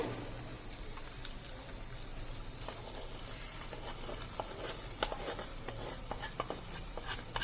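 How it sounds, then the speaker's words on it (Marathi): Crushed peanuts are sautéed in fried masala for a Khandeshi pigeon pea curry, with a quiet, steady sizzle and scattered light clicks and taps from stirring, and no voices. "हे पण आपल्याला मसाल्यात साधारण पाच मिनटं पाच ते दहा मिनटं परतवून घ्यायचे आहे"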